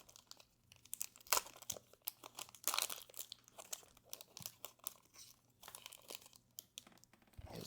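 A foil pack of 2024 Panini Donruss baseball trading cards being torn open, with close crinkling, tearing and rustling of the wrapper in irregular bursts, fairly quiet.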